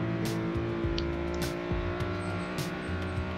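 A car in the Roblox game Greenville accelerates through its gears, the engine tone climbing in steady steps with short breaks at each shift and faint ticking clicks over the top.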